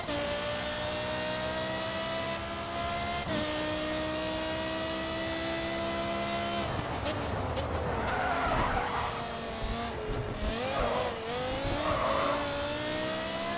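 Race cars in GRID 2 driving at high engine revs throughout, with tires squealing and skidding in the later half as the cars slide and bump. The engine drone stays loud and steady.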